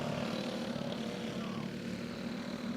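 A go-kart engine runs flat out at full throttle on a race circuit at Twister Alley Raceway, giving a steady, loud, buzzing drone that holds unbroken for the whole stretch.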